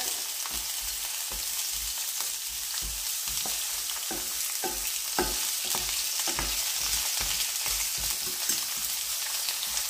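Onions sizzle steadily in a hot frying pan, a continuous crackling fry with occasional stirring clatters, close and fairly loud, no voices.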